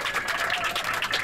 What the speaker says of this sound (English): Please applause for him.